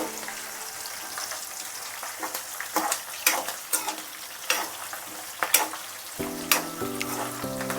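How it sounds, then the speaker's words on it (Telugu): Green chillies frying in hot oil for lemon rice, a steady close sizzle broken by repeated sharp spattering pops and crackles, with a few stirring knocks near the end. "పచ్చిమిరకాయలు వేసేటప్పుడు జాగ్రత్త నూనెలో ఏం కానీ వచ్చి ఫేస్ మీద పడుతూ ఉంటాయి"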